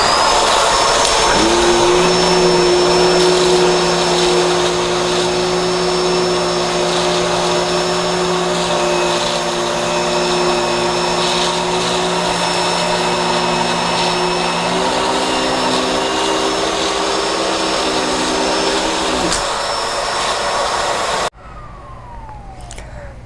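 A Bissell Pet Hair Eraser Turbo Plus vacuum runs with a loud steady whine and droning motor hum while cleaning along an edge, pitch shifting slightly partway, then cutting off near the end.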